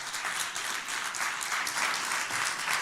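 Steady audience applause at a church youth event, dense clapping from a crowd filling the room at an even, sustained level with no talk over it.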